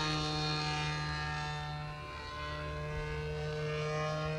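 Small aircraft in a low, slow flight-training pass overhead, a steady propeller drone with strong tonal hum, dipping slightly midway then holding, fairly faint and with no voices.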